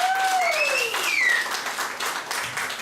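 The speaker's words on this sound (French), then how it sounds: "Alors, je vais vous demander à tous d'applaudir et de remercier M. Lou Solitaire qui va film" Audience at a poetry evening applauds in a steady wash of clapping, while gliding whistle-like tones sweep over the first second and a half.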